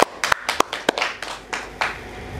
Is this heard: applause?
yes